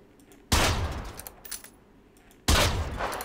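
Gunfire in the video game Generation Zero, aimed at a fuel tank mounted on an enemy machine: two loud, abrupt bursts of shooting about two seconds apart, each ringing on briefly, with no talking.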